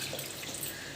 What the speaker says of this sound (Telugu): ఇంకొంచెం వాటర్ పోసుకుందామండి, చేపలు ఎక్కువ ఉంది కాబట్టి ఇంకొంచెం